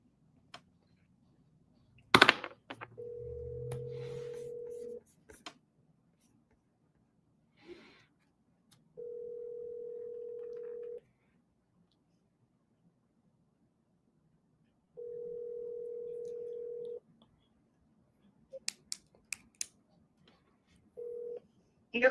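An outgoing phone call ringing unanswered: a steady tone repeats in long evenly spaced bursts, with brief clicks and a short breathy noise between rings, close and clear with no talk.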